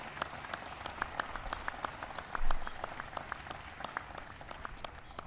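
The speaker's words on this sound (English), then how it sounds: "so give him a big round of applause." A White House audience claps for the 2012 NASCAR Sprint Cup champion, producing fairly faint, steady applause in which separate hand claps stand out over a soft crowd murmur in a large room.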